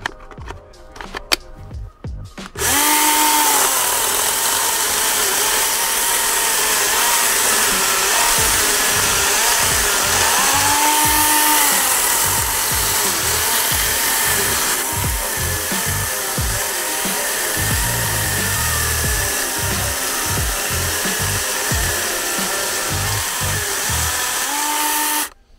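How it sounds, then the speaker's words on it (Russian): A small Tekhmann cordless saw running on a 4 Ah battery cuts steadily through material with a loud, continuous whine, its pitch dipping briefly under load before the motor stops abruptly at the end. "Ну, как вы услышали, на четверке намного, намного резвее работает."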